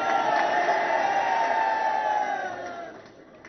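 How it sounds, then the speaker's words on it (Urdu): A large crowd at a political rally for Shahbaz Sharif chants slogans in unison, a loud sustained roar of voices that fades toward the end. "ذرا اور نعرے بعد میں لگا لینا یار"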